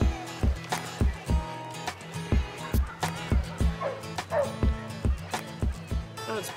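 Several dogs bark repeatedly at an outdoor community dog festival, sharp close yaps and barks in an irregular burst-filled rhythm with some whimpering and faint crowd sounds behind.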